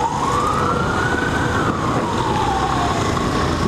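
A wailing siren rises and falls steadily over loud road noise, close and continuous throughout.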